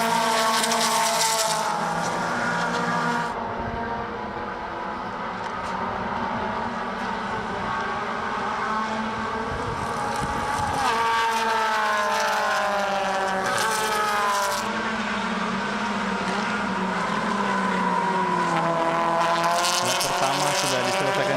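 Subaru BRZ race cars scream past on a circuit during a Super Series race, engines rising and falling in pitch as they pass, with loud, layered revs filling the scene and a commentator speaking over them.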